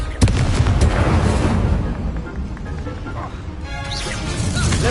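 The Confringo fire spell in Hogwarts Legacy gives a loud, booming blast followed by rumbling combat noise throughout. A voice calls out the spell at the start.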